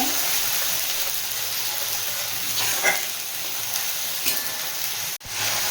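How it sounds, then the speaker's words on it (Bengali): A ground paste of onion, ginger, garlic, tomato and green chilli frying in a pan for soybean kofta curry, giving a steady loud hiss and sizzle with a few faint stirring scrapes and no talking. "আমি এই বেটে রাখা মশলাটা দিয়ে দেবো পেঁয়াজ আদা রসুন টমেটো কাঁচা লঙ্কা একসাথে পেস্ট বানিয়েছিলাম ভালো করে কষিয়ে নেব"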